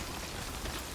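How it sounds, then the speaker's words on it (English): Steady rain falling in the video game Death Stranding, a dense, even hiss of drops on surfaces that continues without a break for the whole second. "I really need this rain to stop."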